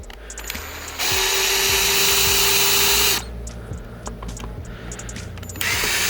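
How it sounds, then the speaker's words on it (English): A power drill on its lowest setting removes screws from a 2010-2013 Mazdaspeed 3 steering wheel, whirring loudly in a sustained two-second burst, with quieter clicks and handling noises before and after, then another brief spin at the end. "Now if you're using a drill like me, put it on the lowest setting."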